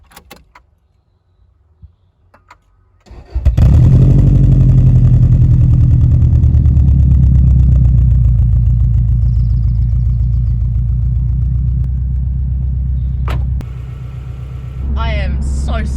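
Subaru Impreza engine starts after a quiet moment and settles into a loud, steady idle while warming up, a deep, even rumble that holds close by, with a brief click and a faint voice near the end.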